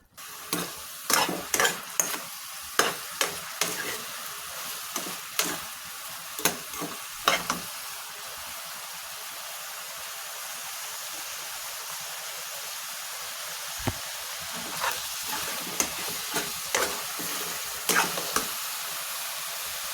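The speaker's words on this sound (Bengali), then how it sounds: "এটা ভালোভাবে আমি নাড়াচাড়া করে নিব।" River chapila fish with garam masala paste sizzles in a pan, a steady frying hiss running throughout, broken by bursts of sharp spatula scrapes and knocks early on and again near the end, with a quieter stretch of plain sizzling between.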